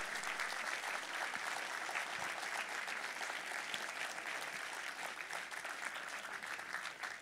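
Steady, dense applause from an audience at a civic New Year's greetings ceremony, honouring the regional council president; continuous clapping throughout with no voices over it.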